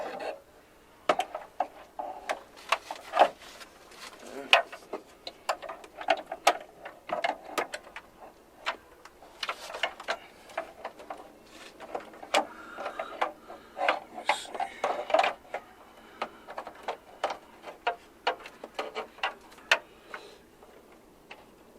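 Screws being driven in while installing a Fox Body dashboard, a long run of quick, irregular clicks and ticks at close range, fairly faint, with no talking.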